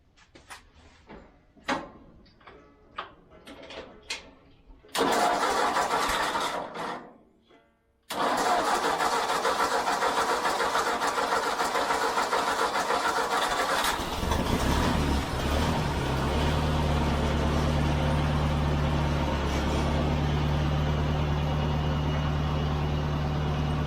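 1957 Ford tractor engine with a new carburetor, heard as several short cranking attempts, then a catch and a brief stall before it fires again and settles into a loud, steady running idle.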